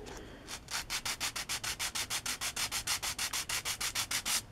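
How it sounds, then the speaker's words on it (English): Hand sanding of a plastic part from a 1/48 scale Bandai AT-ST model kit, about twenty quick, even back-and-forth rubbing strokes in a steady rhythm, close and clear with no talk. "I'm trying to keep the sanding all in one direction."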